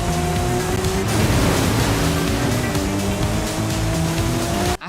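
Mercedes-AMG Project One hypercar in the Forza Horizon 5 racing game, engine droning loud and steady with tyre squeal as it drives, a continuous roar that cuts off abruptly at the end.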